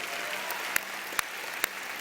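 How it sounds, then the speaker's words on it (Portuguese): A church congregation applauds Jesus during a worship service, a soft, continuous patter of many hands clapping with a few sharper, louder claps standing out at regular intervals. "Vamos abençoar Jesus com um aplauso."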